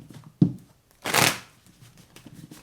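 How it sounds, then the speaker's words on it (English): Tarot cards being shuffled by hand: a short riffle at the start, then a louder, fuller shuffling burst near the middle, close and alone with no voice. "Let's get one more shuffle."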